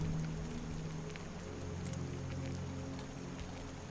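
Rain cloak spell effect from Skyrim, a soft steady hiss of falling rain with faint scattered droplet ticks, continuous and fairly quiet throughout.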